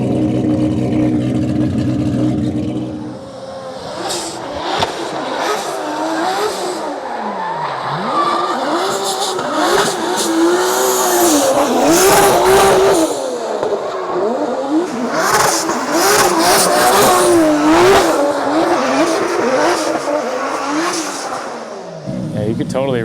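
Adam LZ's BMW E36 accelerating hard with no lag, its engine screaming and revving up and down while the tires squeal and skid, loud and close throughout, with people talking excitedly over the noise.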